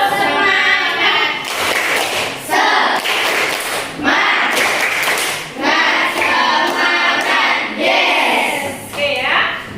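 Students in an Indonesian madrasah classroom perform a rhythmic spirit clapping chant, loud bursts of patterned claps mixed with voices repeating in regular phrases over about ten seconds.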